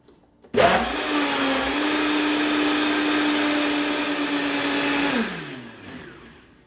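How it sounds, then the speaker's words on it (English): A Vitamix blender churns key lime pie filling with coconut oil, a loud, steady motor whir that starts abruptly, holds one even pitch for about four and a half seconds, then winds down and fades. "Finish blending that, and then we're ready to fill the pie."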